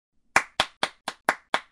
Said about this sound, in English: This is the part where the white people start to applaud.